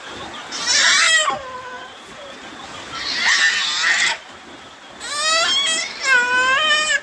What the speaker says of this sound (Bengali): প্রচুর গোল করছে প্রচুর চিৎকার করছে